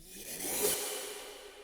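A swelling, breathy rasp builds up and then trails off in a washy reverb tail, a reversed ripping sound used as a rising effect.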